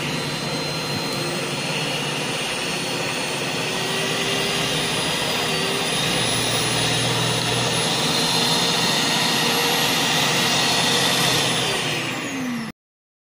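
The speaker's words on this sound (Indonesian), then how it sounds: "Ini adalah juicer. Tipenya ada di belakang sana, ding. Itu dia. Super Juicer Jupiter pengejus." A repaired Super Juicer Jupiter juicer motor runs at 220 volts with a loud, steady, high-pitched whine that holds constant for about twelve seconds, then cuts off abruptly.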